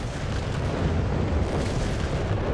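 Artillery fire rumbles through a Company of Heroes 3 battle, with a British howitzer shelling the northern victory points; a dense, continuous low boom and roar fills the whole stretch, with no distinct gaps between blasts.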